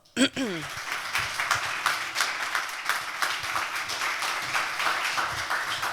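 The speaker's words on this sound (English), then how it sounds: "Please give him a big round of applause" Audience at a fashion sustainability event applauds a guest, a steady spread of many hands clapping after a brief sharp opening sound, moderately loud and continuous throughout.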